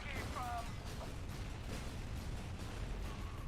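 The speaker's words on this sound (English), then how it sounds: "It does seem to be shooting explosions." A powerful turret in the shooter game F.E.A.R. 2 fires explosive rounds, a dense, rumbling barrage of low booms and bursts with no clear pauses, sounding moderately distant.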